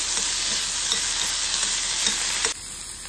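Turmeric and salt stirred in a frying pan for paneer bhurji, a steady close sizzle with soft scraping strokes that drops to a quieter hiss near the end; no talking.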